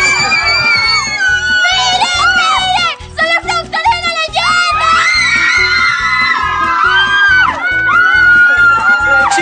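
Girls in an animated show screaming excitedly, a loud sustained chorus of high-pitched shrieks and squeals over a rhythmic music beat, with a brief dip partway through before the screaming surges again.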